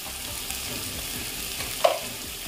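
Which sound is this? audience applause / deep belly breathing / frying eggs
frying eggs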